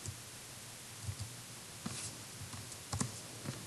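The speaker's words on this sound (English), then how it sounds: "we're going to go to Google and we're going to type in GeoGebra." Keys click softly on a computer keyboard in short irregular bursts, with brief pauses between taps, faint and close in a quiet room.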